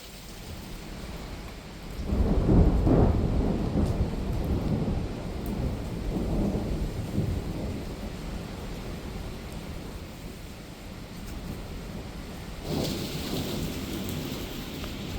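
Heavy rain pours steadily on a church while a deep roll of thunder swells early on and fades slowly; another faint rumble comes later.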